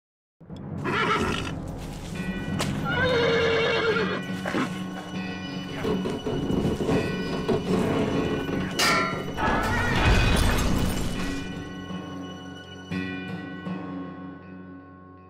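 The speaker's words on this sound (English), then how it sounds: "Strong horse will pull them free." In the western video game Call of Juarez: Bound in Blood, a strong horse neighs and whinnies repeatedly as it strains to pull rusty bars free, with hoof clatter, metallic rattling and a crash.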